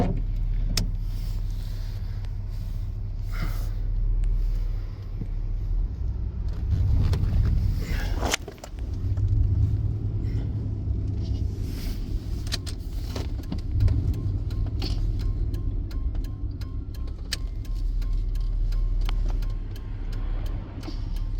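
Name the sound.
1995 Chevy K1500 5.7 TBI engine idling in drive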